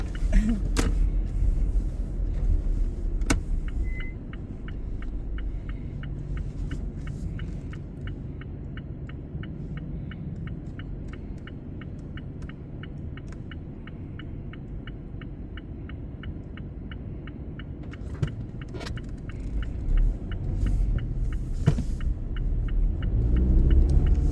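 A smoking car's engine rumbles on a street, a low steady throbbing drone with a faint regular ticking, with a few sharp knocks and slight swells in loudness near the end; no one speaks.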